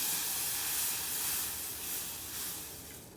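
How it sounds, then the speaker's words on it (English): Milk heats in a pot on a stove and comes to a boil, giving a continuous broadband hiss that swells and eases gently, with no voices. "So I turn on the fire and put in the milk and bring it to a boil."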